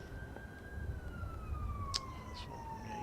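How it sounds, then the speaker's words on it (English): Emergency vehicle siren wailing in the distance over a cricket ground during a county championship match, a faint steady tone slowly falling in pitch under low crowd and ambient noise. "Sirens around the place. I've heard a lot of sirens today."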